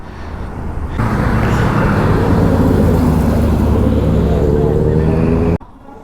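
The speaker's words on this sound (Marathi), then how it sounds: "बघा ट्रक भरपूर सारे बायकर्स आहे" Trucks and motorbikes travel a ghat hill road on the old Pune highway near Khopoli, a loud continuous engine drone and road rumble with a rising whine that cuts off abruptly near the end.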